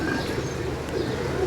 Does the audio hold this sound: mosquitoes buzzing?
no